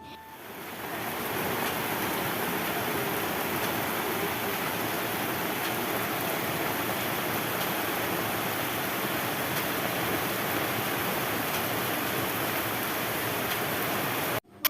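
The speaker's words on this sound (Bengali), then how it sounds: "বলতে না বলতেই নেমে গিয়েছে জোরে জোরে বৃষ্টি" Heavy morning rain falling steadily, a dense, loud, unbroken hiss that builds in the first second and holds evenly throughout, with no voices.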